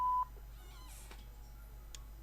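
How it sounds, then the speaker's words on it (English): A voicemail beep sounds right after an automated answering message on a phone call: a single short, steady electronic tone at the start, then a faint line hiss. "Please leave a message after the tone."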